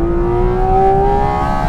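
Porsche Cayman GT4 RS engine pulling hard through the revs, a loud sustained tone with a steadily rising pitch that stays constant in level throughout, no talk.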